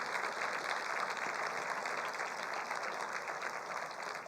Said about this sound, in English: This definitely deserves a huge round of applause.